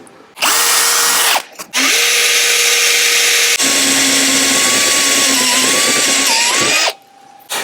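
A power drill whirs loud and steady in long bursts, briefly pausing then running again, as it enlarges bolt holes while fitting a Heritage-style car interior.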